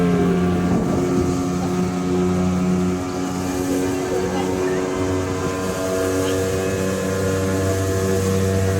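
A motorboat engine drones steadily and loudly throughout a family boat ride on Amani Kere lake near Tumakuru, with wind buffeting the microphone and faint voices underneath.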